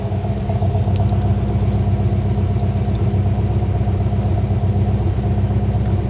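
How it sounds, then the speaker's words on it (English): A 1965 Ford Mustang 2+2 Fastback idles steadily through its trumpet exhaust tips, a low, even, throbbing rumble close by with a slight clatter, running alone without talk. "come around back and listen to the exhaust."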